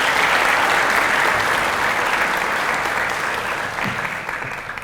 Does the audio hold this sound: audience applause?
yes